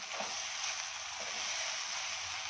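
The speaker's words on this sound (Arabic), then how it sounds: "نقلب شويه كده، خليه يتغلب كله بالسمنه والزيت بتاعنا اهو." Chicken pieces and onions stirred in a pan of hot ghee and oil, a steady loud sizzle running the whole time with faint scraping underneath.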